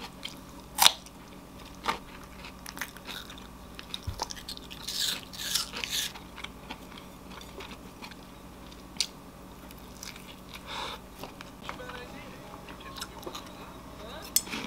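Someone bites and chews fresh cucumber up close, with sharp crunchy bites followed by softer wet chewing over a quiet room.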